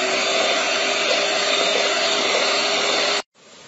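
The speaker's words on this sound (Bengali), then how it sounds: "এখন এর মধ্যে দিয়ে দিচ্ছি এক কাপ পরিমাণ রেগুলার রান্নার তেল দিয়ে আর কিছুক্ষণ বিট করে নেব" An electric mixer beats sugar and cooking oil with a loud, steady motor whine that cuts off abruptly near the end, and no one speaks.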